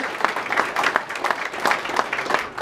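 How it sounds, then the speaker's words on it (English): Guests at a hotel opening give the staff a round of applause: a short burst of many hands clapping in a room, fairly close and uneven. "I just want a big round of applause for our staff"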